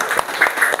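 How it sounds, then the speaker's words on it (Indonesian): A group of students in a classroom clapping together in a short, rhythmic burst of a few claps, close and fairly loud, lasting under a second. "Tepuk tangan untuk kita semua."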